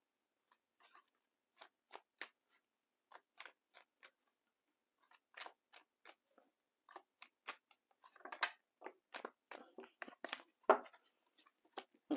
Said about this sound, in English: give me a moment to just finish laying these cards